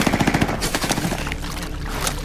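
Gunfire in a war film follows a flare fired over troops crossing sea ice, with a rapid string of close, evenly spaced shots followed by a rougher, noisy echoing tail.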